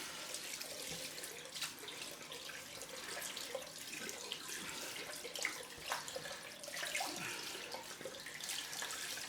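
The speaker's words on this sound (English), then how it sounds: "And then we're in for the cold rinse." Cold tap water runs steadily into a sink for a rinse after a straight-razor shave, a continuous close splashing hiss with small spattering variations throughout.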